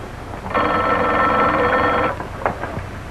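An old-fashioned telephone bell rings once in a steady, loud burst of about a second and a half, followed by faint knocks and rustling.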